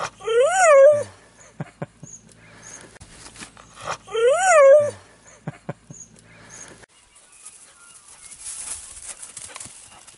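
A small dog whimpers outdoors on a cold winter morning, two rising squeaky whines a few seconds apart with soft clicks between, then quieter rustling; close and fairly clear.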